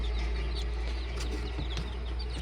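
Chickens cluck softly on a small farm where chicks are being raised, a few short clucks and calls scattered over a steady low hum, fairly faint and close.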